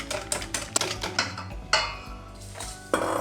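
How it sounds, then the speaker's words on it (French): Cream mixture being whisked by hand in a bowl for a pastry, heard as a run of close, uneven clinking and scraping strokes against the bowl, with brief pauses between bursts. "vous vous armez d'huile de coude, plaisanterie traditionnelle des pâtissiers, et vous fouettez jusqu'à ce que le mélange blanchisse"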